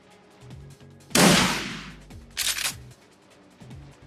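Gunshots in the tactical game Shadowrun Returns: two loud, close blasts about a second apart, each with a short noisy decay, set against a quiet rhythmic game score with no talking.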